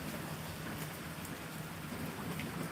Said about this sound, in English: Now it's just raining normally.